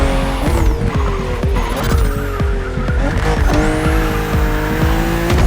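BMW M2 and M4 cars racing in The Crew Motorfest video game: loud engines rise and fall through gear changes, with tires squealing through sharp bends on a narrow road, continuous and close.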